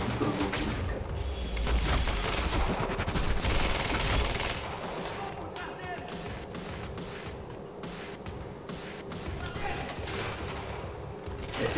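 Machine gun fire in the action video game Quantum Break, dense sustained bursts with booming blasts, loudest in the first few seconds and then continuing as a steady rattling barrage.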